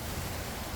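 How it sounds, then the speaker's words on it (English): Steady broadband rushing of wind buffeting the microphone, constant and loud with no other sounds. "it's very windy today"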